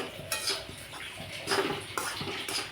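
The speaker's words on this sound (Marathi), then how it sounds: "आता तेल चांगलं मस्त खरपूस होईपर्यंत परतावत राहणं" Flour roasting in oil in a pan for jaggery and wheat laddus, stirred with a spoon that scrapes and clinks against the metal in a steady, close rhythm with a few louder knocks, no talking.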